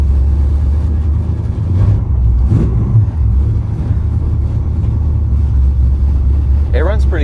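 A 1970 Mach 1 Mustang with fuel injection running, a low steady idle rumble that holds throughout, near and fairly loud, with a few brief voice sounds near the end.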